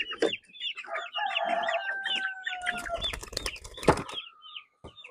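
Two-month-old silkie chicks and other backyard fowl cluck and peep in a busy chorus with a drawn-out crow-like call. The birds are close and steady, and a brief flutter of wings sounds near the end.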